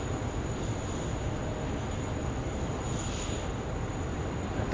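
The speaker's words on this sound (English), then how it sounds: "Got the Qantas over here lining up or taxiing." A Qantas wide-body airliner taxiing at Sydney Airport produces a steady, loud, broadband jet-engine roar with a thin high whine, continuous and unchanging throughout.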